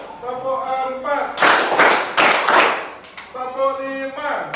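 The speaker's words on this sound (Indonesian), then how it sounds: "Tepuk 1, tepuk 1, tepuk 2," Bursts of brisk hand clapping in a counted rhythmic pattern in a classroom, with a voice calling out the counts between the claps, close and lively.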